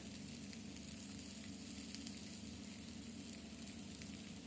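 Onions and masala spices frying in a pan for Chettinad chicken, a steady close sizzle with faint crackles throughout, no voices.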